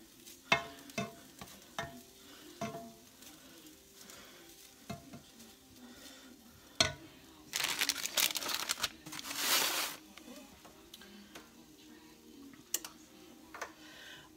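A Reuben sandwich fries in a pan, a soft steady sizzle broken by sharp utensil clicks and scrapes, with two bursts of louder, hissing crackle midway.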